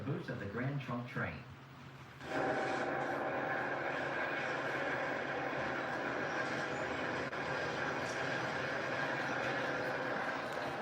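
A long Grand Trunk freight train rumbles steadily past a rail junction, its continuous rolling roar rising after a brief quieter opening and holding at a constant level while someone talks.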